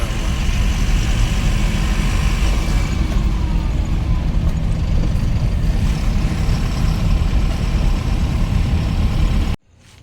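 A loaded truck's diesel engine idling, a steady close low rumble that holds unchanged for several seconds before cutting off abruptly near the end.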